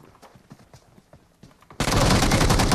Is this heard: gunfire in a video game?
yes